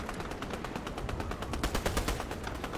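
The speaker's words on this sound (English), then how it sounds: "Now I've got people shooting at me." Rapid automatic gunfire in the Fortnite video game, a dense stream of sharp shots in quick succession for nearly three seconds, loud and continuous with no talking.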